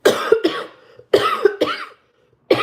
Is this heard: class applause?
no